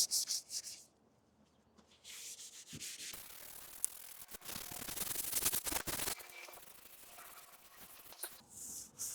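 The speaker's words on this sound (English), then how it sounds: "keep sanding to remove them from the panel" Steady abrasive rubbing of sandpaper on a Kia Sportage body panel to remove scratches, continuous with brief pauses and changes in pressure, close up with no talking.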